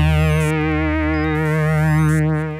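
AudioKit Digitalism 2000 synthesizer producing bleeps: a sustained bright tone with a rich stack of harmonics and a gently wobbling pitch, broken by short high chirps, close and alone.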